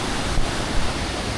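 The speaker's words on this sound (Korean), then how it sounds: "중간에 있는 폭포인데 여기도 상당히 멋있습니다" Waterfall in Sri Lanka, a steady loud rushing roar of falling water close by, continuous broadband noise with no voices.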